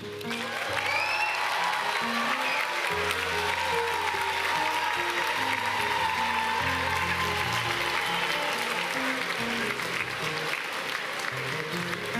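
Sustained applause from a convocation audience for graduates, a dense, steady wash of many hands clapping that continues without pause throughout, loud and close.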